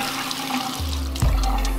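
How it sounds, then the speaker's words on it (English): Running water from a tap wets a Clinique facial cleansing brush at a sink. A steady hiss of flowing water changes into a fuller, louder gush partway through, close by and with no voices. "I will just wet the brush like this."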